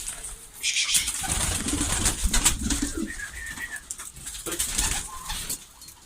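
Pigeons in a coop, with soft cooing, wing flaps and rustling throughout, fairly close and steady.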